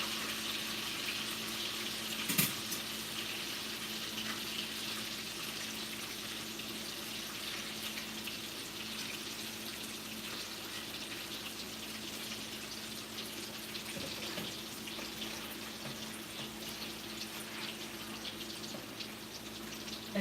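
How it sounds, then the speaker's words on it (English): Fish fries in hot oil with a steady, hissing sizzle that continues evenly throughout, with one brief sharper spatter early on. "as you can see how aggressive the oil is against the water"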